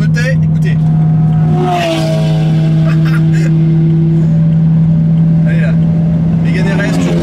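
BMW M3 E92 on a race track, a steady loud engine drone with a strong low hum and shifting higher tones as it accelerates, heard continuously from inside or near the car.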